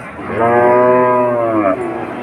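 A Friesian bull at a busy cattle market gives one loud, close, drawn-out moo lasting well over a second, deep and droning before it tapers off, with no talking.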